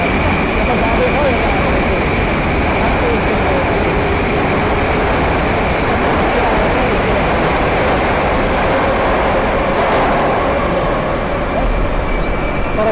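A Moscow metro train arrives at a station: a loud, continuous rumbling roar that holds steady throughout.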